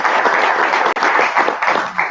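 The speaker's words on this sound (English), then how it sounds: "Please give him a round of applause" An audience at a Tcl/Tk programming conference applauds a speaker, a steady, fairly loud wash of many hands clapping with a brief dip partway through.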